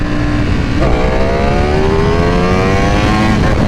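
A stock-mapped 2021 Ducati V4R motorcycle accelerates hard in first gear. Its engine note climbs steadily in pitch, loud and close, with no pause.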